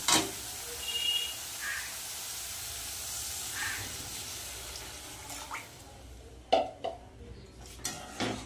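Water is poured into a pan of well-fried spices for a fish curry, setting off a loud hiss and sizzle that settles into steady steaming, followed by a few metallic clanks of utensils against the pan.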